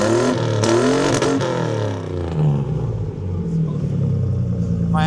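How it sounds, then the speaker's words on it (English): A cheap, rusty old pickup truck bought for about $1,000 has its engine revved hard. The loud roar climbs and falls through several revs before settling into a rough, rumbling idle. "Go ahead, you rev it up."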